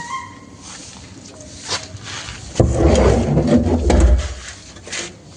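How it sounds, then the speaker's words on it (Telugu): A house's side door is opened in the dark, with light handling noises followed by a loud, scraping and rattling burst midway that fades before a smaller knock. "side door తీసేస్తున్నాడు"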